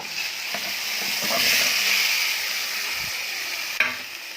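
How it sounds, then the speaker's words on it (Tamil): Mustard seeds, curry leaves, garlic, fenugreek and tomato sizzling loudly in hot oil as a tempering, a steady bright frying hiss with occasional stirring scrapes and one sharp clack near the end. "தாளித்து தாளிப்புக்கு கடுகு, கருவேப்பிலையில் பூண்டு, வெந்தயம், தக்காளி பழம் எல்லாம் போட்டு தாளிக்கிறேன்."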